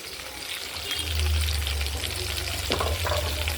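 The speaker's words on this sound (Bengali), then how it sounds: "কড়াইয়ে তেল গরম করে এটা ভেজে নেব হালকা" Steady sizzling of taro frying lightly in hot oil in a wok, with occasional stirring clatter partway through.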